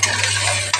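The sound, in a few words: onion and garlic frying in hot oil with cumin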